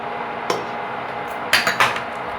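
Metal clinks and scrapes of a spoon against a pot while liquid jaggery is stirred into hot milk for a creamy payesh dessert, a few sharp knocks over quiet background, close and moderately soft.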